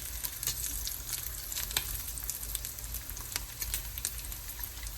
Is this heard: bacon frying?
yes